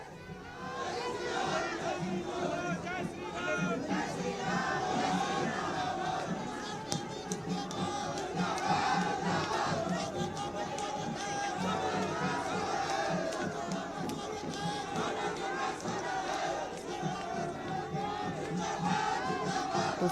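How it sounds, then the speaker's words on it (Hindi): A large crowd of BJP workers shouts slogans at a rally, with dense, continuous overlapping voices and chanting, steady and fairly loud throughout with scattered claps and chatter. "बीजेपी के लोग, बीजेपी के कार्यकर्ता यहाँ नारेबाजी करते हुए दिखाई दे रहे हैं।"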